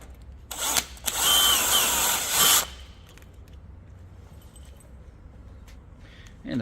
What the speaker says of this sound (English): there's 2 more screws to go in, one underneath and one in the center